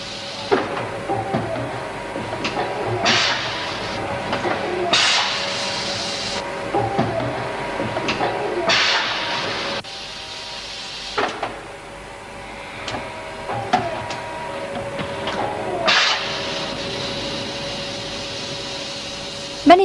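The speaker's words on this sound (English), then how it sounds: "This machine in the development laboratory back at Grangemouth melts the plastic, then blows it into bottle-shaped moulds." Laboratory machine at Grangemouth melting polyethylene and blow-moulding bottles, mechanical whirring and hissing bursts of air with clunks and pauses, cycling irregularly at close range.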